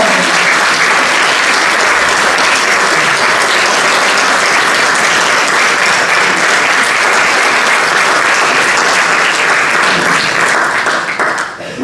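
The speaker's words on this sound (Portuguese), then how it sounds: "Uma salva de palmas a este jovem." Sustained audience applause fills the room at a book launch event for a young man, loud and steady throughout with dense clapping, fading slightly at the very end.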